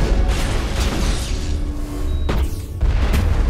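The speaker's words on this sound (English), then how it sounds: "Oh, that was a rocket launcher." A rocket launcher blast in the video game Mass Effect, set in a bar fight, lands as a sudden booming explosion with a sharp crack, ringing over a continuous rumbling din of combat.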